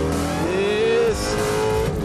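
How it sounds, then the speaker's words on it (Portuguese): A race car accelerates hard out of a corner on a track, its engine note loud and continuous and rising in pitch. A brief tire squeal comes through, with a voice talking underneath. "Essa aqui usou e começa a acelerar na saída."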